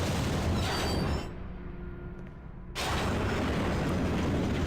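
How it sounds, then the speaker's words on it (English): A Devil Trigger explosion in the video game Devil May Cry 3 erupts in a loud, dense blast of noise, briefly drops to a muffled low rumble, then returns at full force. "DT explosion for the win once again."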